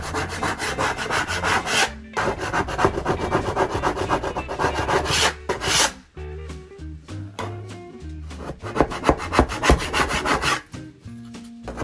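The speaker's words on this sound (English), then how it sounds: "if you feel like you want to sand it to make it even smoother," Hand sanding of wood during a travel trailer bunk bed build: quick rhythmic back-and-forth rasping strokes, loud and close, pausing briefly around two and six seconds before resuming.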